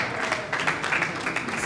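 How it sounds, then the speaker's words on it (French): A crowd at an evening soirée applauds a speaker, a continuous burst of clapping at moderate volume, with a few louder swells through the brief moment. "Est-ce qu'on peut l'applaudir"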